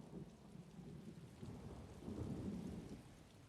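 Thunderstorm with steady rain falling on surfaces and low thunder rumbling, swelling louder partway through, heard distantly and faintly without voices.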